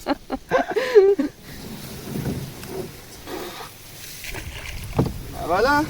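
A small boat motors across a lake or sea in Finland, its low engine drone and water rush steady beneath gusting wind, with people talking over it in short bursts.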